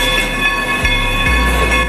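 Baldwin-built steam locomotive No. 40, which hauls tourist trains in Pennsylvania, runs close by with a steady mechanical rumble, hiss and rail noise, broken by two sharp clanks.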